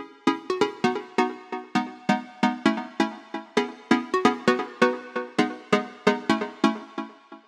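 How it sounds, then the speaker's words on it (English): A bright house pluck synth from the Plucked plugin in FL Studio plays a bouncy, steady rhythmic pattern of short, sharply decaying notes with no voice over it. "The sound you're hearing is coming from the FL Studio plugin called Plucked"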